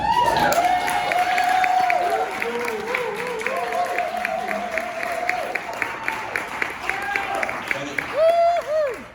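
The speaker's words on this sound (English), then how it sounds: "That was really, really good applause." Audience applause at a live storytelling and music evening, a dense wash of clapping that stays steady, then thins into scattered claps, while a voice talks over it throughout.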